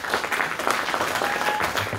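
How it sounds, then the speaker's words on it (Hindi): A crowd at a cricket awards ceremony claps steadily as players receive trophies, a dense continuous applause with no pauses. "खिलाड़ियों ने तालियों की गूंज में अवार्ड वसूल किए।"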